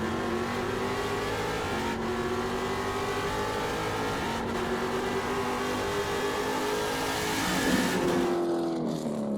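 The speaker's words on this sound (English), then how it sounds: "You can hear him getting on the limiter from that short chute between 6 and 7." Trans Am race car at Portland International Raceway bouncing off the rev limiter in the short chute between turns 6 and 7, a steady high-pitched engine drone heard from a distance with stuttering revs and faint tire noise.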